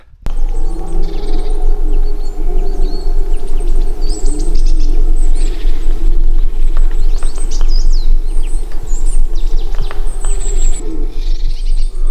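Several birds chirp and call outdoors in Białowieża National Park, Poland, including cooing doves and higher tweets, over a steady low wind-like rumble.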